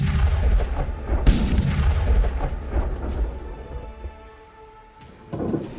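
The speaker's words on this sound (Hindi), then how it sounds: "ये नॉर्थ वेस्टर्न यूक्रेन का लटस्क शहर है, जहां रूस मिसाइल्स ताबड़तोड़ हमले कर रहा है।" Heavy booms and rumbling blasts from missile strikes and bombardment on Lutsk in north-western Ukraine, loud and dense at first, then a sustained roar that eases and swells again near the end.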